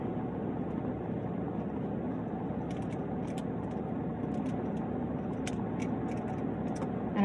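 A car engine idles steadily inside the vehicle, a loud, constant low rumble that fills the whole stretch, with faint clicks and rattles near the end and no talking.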